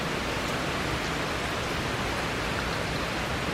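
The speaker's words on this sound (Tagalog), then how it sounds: "Ang sarap ng ulan." Heavy rain pouring steadily during a typhoon in the Philippines, a dense, even hiss of rainfall with no pauses and no voices.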